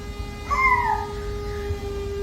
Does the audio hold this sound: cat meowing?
yes